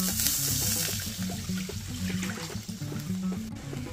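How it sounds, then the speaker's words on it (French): About a litre of cold water poured into a hot pan to deglaze it while cooking Senegalese mafé, a steady close rush of liquid with sizzling hiss throughout. "on va mettre de l'eau froide dessus pour récupérer toutes les saveurs qu'il y a dedans"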